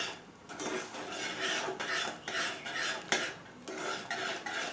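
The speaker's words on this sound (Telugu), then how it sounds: "అంతా బాగా మిక్స్ చేసేసుకుని" Dosakaya dal seasoned with Maggi masala stirred in a pot, a steady rhythmic scraping and swishing of a spoon against the metal, close and fairly loud, with no talking.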